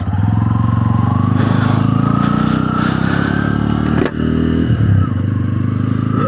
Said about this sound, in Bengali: এই বাইকটার মেইন আকর্ষণের সাউন্ডটা।